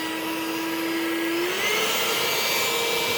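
A small handheld car vacuum cleaner runs continuously with a steady whirring whine, its motor pitch rising slightly partway through.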